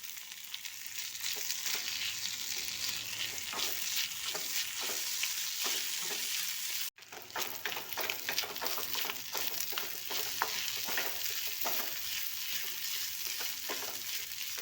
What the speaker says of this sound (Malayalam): അതും കൂടെ ഇട്ട് ഇളക്കി കൊടുക്കാം